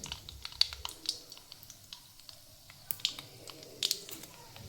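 Mustard seeds crackle and pop in hot oil as a vegetable dish made from wheat bran is being cooked, giving sparse, faint, irregular little pops and sizzles.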